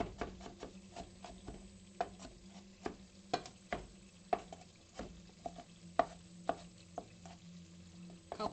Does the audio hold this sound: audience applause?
no